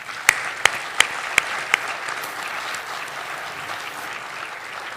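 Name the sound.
audience applause for nominees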